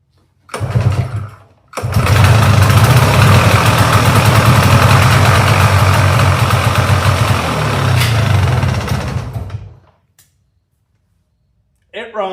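An all-original 1996 Polaris Sportsman 400 ATV with a carburetor needing a rebuild sputters briefly, then catches and runs loud and rough for about eight seconds before cutting out, with voices around it.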